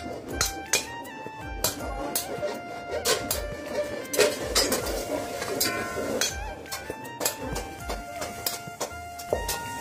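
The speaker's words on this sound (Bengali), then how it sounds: "এবার পরবর্তী প্রসেসের জন্য এই কড়াইগুলো একত্রিত" Metal karai cooking pots, cast from melted-down truck and ship engines, clank and clink repeatedly as they are gathered in a workshop, with sharp irregular metallic hits over a busy background and some talk.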